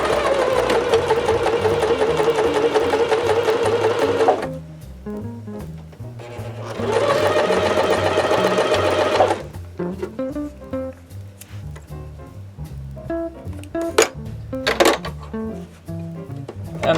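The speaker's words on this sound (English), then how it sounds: "That just gets sewn on just like this with the zigzag stitch." A sewing machine runs a zigzag stitch to attach fringe to fabric, two steady whirring bursts of several seconds each separated by a pause, followed by quieter handling clicks.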